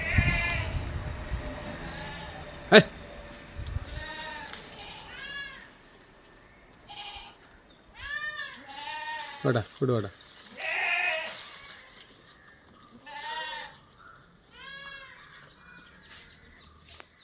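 Two mother goats and three kids bleat repeatedly and loudly close by, several calls overlapping in bursts, while someone speaks briefly over them.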